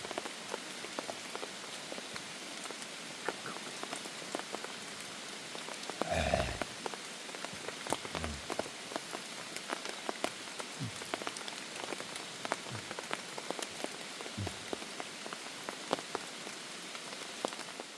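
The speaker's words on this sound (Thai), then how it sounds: "บรรยากาศ ฝนตกถล่ม" Heavy rain pours down on a mountain forest, a dense, continuous patter of drops striking surfaces nearby, with scattered louder splats and one stronger thud partway through.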